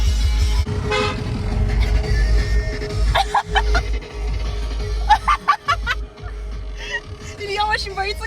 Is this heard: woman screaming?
no